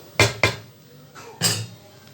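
A spoon scrapes and clanks against a kadai while stirring mushroom mandi rice, with two quick metallic knocks followed after a pause by a louder scrape, near and distinct.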